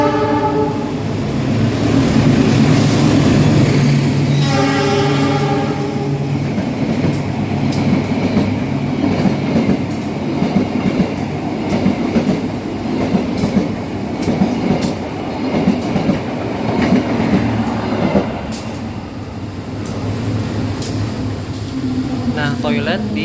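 A Progo economy New Generation passenger train runs with a steady rumble and clickety-clack of wheels, a loud horn blast sounding early on, air conditioning humming, and people talking in the carriage.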